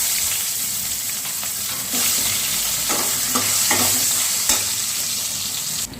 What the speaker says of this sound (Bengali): আলুগুলো আমি একটু ভাজা করে নিচ্ছি ভালো করে